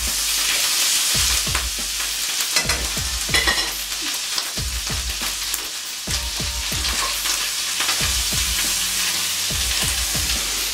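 Chilli prawn pasta sauce frying in a pan, a dense continuous sizzle with frequent scraping stir strokes and clacks, close and loud throughout.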